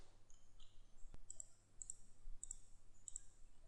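Computer mouse clicking during work in LS-DYNA simulation software, a quiet run of light clicks in close pairs over faint background hiss, no talking.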